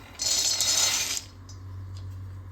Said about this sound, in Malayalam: ചീഞ്ചട്ടി ചൂടായിട്ട് ഇതിലേക്ക് ഇടാം.